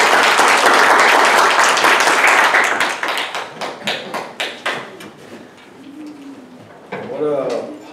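A church congregation claps in welcome, loud and full at first, then thinning into scattered individual claps before a voice speaks near the end.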